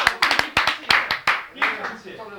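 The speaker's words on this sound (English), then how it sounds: "Clap for the man." A small studio audience gives a volunteer a brief round of claps, a handful of sharp, uneven hand claps that soon thin out, with a voice talking over them.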